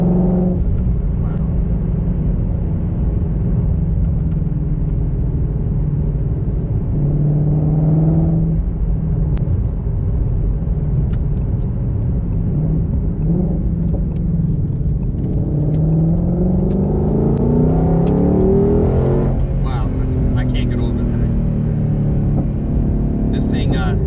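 A 2020 Ford Mustang Shelby GT500 rumbles and surges through several accelerations, deep engine roar rising and falling from inside the cabin while a person talks over it.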